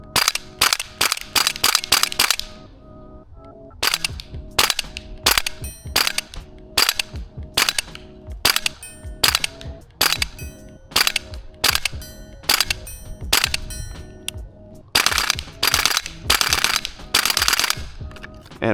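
XM7 toy shotgun firing shells in rapid bursts of sharp, cap-gun-like cracks, close and loud, with a short lull near the start and a dense volley toward the end.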